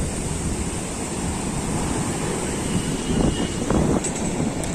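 Sea waves wash onto Old Digha beach on a rainy, overcast day, with murky water. A steady, broad roar of surf is mixed with wind rumble on the microphone and swells slightly louder near the end, with no voices.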